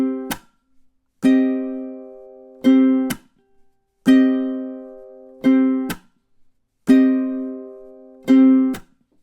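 Ukulele picking a song riff across three measures, clean plucked notes and quick double-note pairs in a repeating syncopated pattern, played solo and close.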